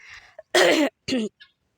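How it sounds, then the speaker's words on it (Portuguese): A throat clearing in two gruff bursts, close and fairly loud, with faint softer sounds before and a small trailing noise after. "eu fico com um pigarro na garganta"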